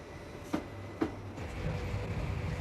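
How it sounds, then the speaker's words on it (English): A 3:18 afternoon express train on the Cardiff to London Paddington run rumbles along steadily, with a couple of sharp rail clacks early on and a continuous low rolling hum throughout. "the 3:18 express train left Cardiff for London Paddington."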